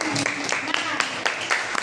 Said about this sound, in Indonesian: Tepuk tangan untuk Cantika dan Yen.